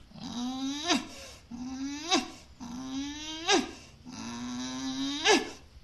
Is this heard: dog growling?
yes